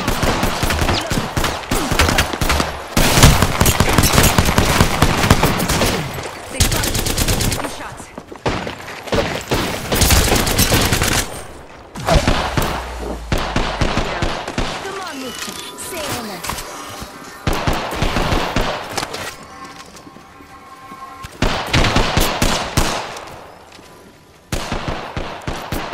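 Loud, close gunfire in Apex Legends comes in repeated automatic bursts and rapid volleys with brief pauses between them. Voices speak intermittently over the shooting.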